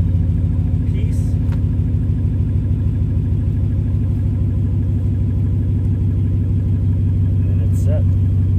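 A truck's engine idles steadily at close range, a continuous low rumble with a faint clank or two over it, no talking.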